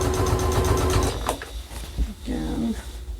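A sewing machine stitches along the length of a fabric shoe bag without a foot pedal, a dense steady mechanical whirr for about a second before stopping, followed by softer clicks and handling noises.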